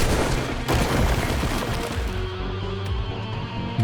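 A barrage of gunfire in the Tsukihime: A Piece of Blue Glass Moon video game: a dense, loud, continuous roar of shots and booms that gradually eases slightly in intensity.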